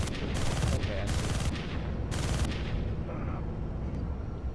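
Mech weapons firing in MechWarrior Living Legends, bursts of rapid hissing gunfire in short repeated volleys over a constant heavy engine rumble, close and loud, with brief radio chatter around it.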